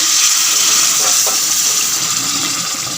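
Hot water is poured into mutton korma being cooked, heard as a loud continuous hiss and splash that eases off slightly toward the end, with no talking.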